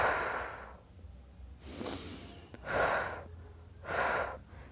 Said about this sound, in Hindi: ऊपर आ रहे, सांस लेंगे, सांस छोड़ेंगे,